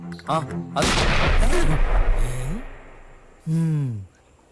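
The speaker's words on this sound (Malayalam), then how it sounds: "ഒരു സാമ്പിൾ വെടി കേൾപ്പിക്കാൻ തോമസച്ചാൻ പറഞ്ഞായിരുന്നു." A single sample gunshot rings out in a Malayalam comedy film scene: a loud, booming blast with a long rumbling decay, and voices can be heard just before and after it.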